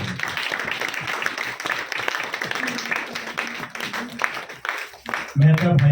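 Steady applause from a gathered crowd at an annual day celebration continues throughout a welcoming ceremony, and then a voice starts speaking over it near the end.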